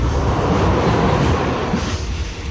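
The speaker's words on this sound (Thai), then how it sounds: "เดินทางด้วยรถไฟ" A train rolls along the rails as heard from inside a carriage: a loud, steady rumble and rattle of the wheels with a faint squeal near the end.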